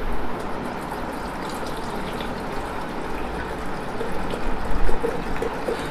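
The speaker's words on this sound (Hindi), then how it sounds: "मैं आधा ही पानी डाल रहा हूं" Water poured into an electric kettle, filled only about halfway, making a steady, close rushing splash that swells slightly near the end, with no one talking.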